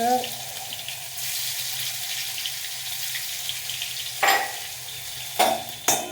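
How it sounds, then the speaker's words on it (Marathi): Garlic paste sautés in hot oil with mustard seeds for murmura chiwda, a steady broad hiss swelling up after a quiet start, with a few sharp scrapes or taps near the end. "लसणाला छान परतून घ्यावं."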